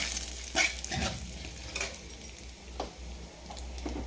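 A spice tempering in hot oil in a kadai sizzles and crackles steadily at close range, with a few sharper pops and spits breaking through the continuous hiss.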